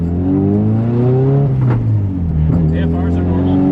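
A tuned, built SR20DET-engined car idles and runs close by, its steady low engine drone and harmonics rising and falling slightly, with brief whooshing bursts over the top.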